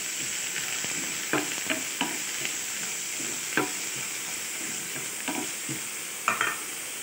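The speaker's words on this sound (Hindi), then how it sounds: "ये देखिए, पोटैटो भी थोड़ा सा हम करने वाले हैं फ्राई।" Potato pieces and soya chunks frying in hot oil, a continuous bright sizzle with occasional clacks of a spatula stirring, heard up close without any talking.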